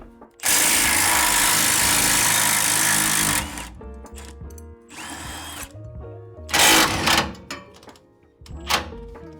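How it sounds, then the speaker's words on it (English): Power tool, likely an impact wrench, removing wheels and rear shocks from a GMC 1500 pickup; a loud sustained burst of about three seconds, then shorter whirring bursts and clanks of parts in a garage. "I'm gonna get the wheels and tires off and get these shocks installed"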